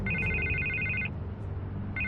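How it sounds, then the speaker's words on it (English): Telephone ringing in Batman: The Telltale Series, an electronic trill that sounds for about a second, pauses, then starts again, clear and close with no speech. "I can't get the phone to stop ringing"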